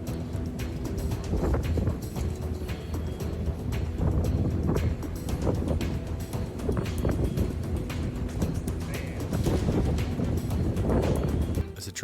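Tornado winds roar and buffet the microphone in gusty surges at night on a river, with heavy rumbling and clattering bursts on a tugboat, loud and close, no voices.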